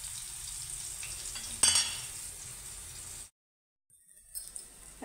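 Medium surmai fish frying in a pan gives a steady, close sizzle with a brief clink of a utensil, cuts out abruptly, then resumes more faintly.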